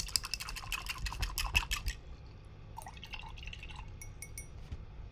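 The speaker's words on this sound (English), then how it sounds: "I'm going to wash my brush." A paintbrush is rinsed in a water container during acrylic painting. Quick clinking taps and swishes of the brush against glass come first, followed by softer dripping and sloshing, all close and moderate in volume.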